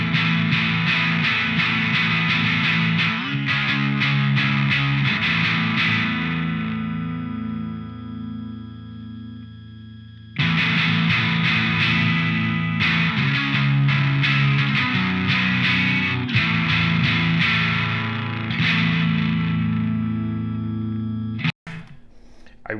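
Electric guitar chords ring out through a Death By Audio Germanium Filter pedal, heavily filtered and distorted, sustained and loud, with a pause mid-way before playing resumes and a final abrupt cut.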